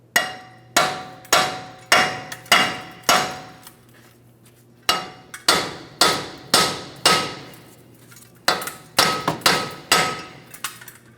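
A hammer taps a wheel bearing hub assembly free from the steering knuckle of a 2015-2025 Ford Transit 250, giving loud ringing metallic strikes in quick rhythmic runs with short pauses between.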